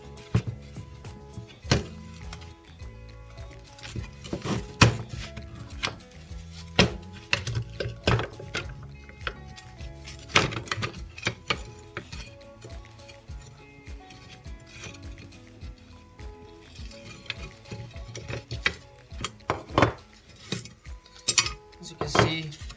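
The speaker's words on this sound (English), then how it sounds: "Now we're going to remove the brake shoes from the backing plate, and the way to do this is to take these out of the slave cylinder" Brake shoes and springs worked loose from the rear backing plate of a Lotus Europa, with metallic clinks, clanks and scrapes of parts and tools coming in irregular bursts, close by, with brief quiet gaps between.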